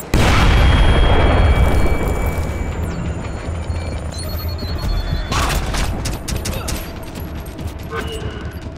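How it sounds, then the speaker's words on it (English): Explosions go off in the Splinter Cell video game, opening with a loud booming blast that rumbles away, then crackling bursts of gunfire and debris. A person speaks over part of it. "There's fucking bombs everywhere, man."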